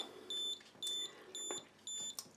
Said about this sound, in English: If you want a self timer, you pull it right back here, there, it's beeping.